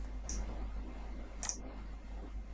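A computer mouse clicks twice, about a second apart, sharp and close in an otherwise quiet room.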